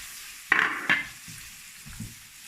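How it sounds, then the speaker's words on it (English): Onions and dwarf beans drop into a hot pan for a tempeh dish with a sudden loud sizzle and a second hiss, then settle into quieter frying with faint stirring scrapes. "just quickly until you can smell the onions. It takes about 2 minutes. And then you throw in the dwarf beans"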